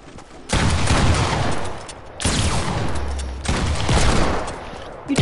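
Hand cannon gunshots in a first-person shooter game: three loud, dense bursts of gunfire, each sustained for about a second and a half with brief pauses between them, heard up close with no talk.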